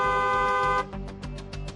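A car horn blares in one sustained tone for nearly a second, followed by a rapid series of short, clipped toots, loud and close with no voices.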